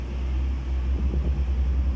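A steady low semi-truck engine rumble with exhaust drone in a video game, continuous and fairly close, pulsing slightly midway.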